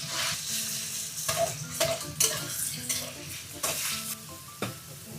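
Marinated beef shreds with ginger strips stir-frying in a wok in a home Sichuan kitchen, with steady loud sizzling and repeated scraping and clanking of a spatula against the pan throughout.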